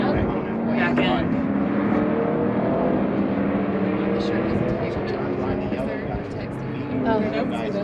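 A 2020 C8 Corvette accelerating in fifth gear on a race track at a racing school in Las Vegas, its engine a steady rising drone heard from inside the car beneath continuous talking.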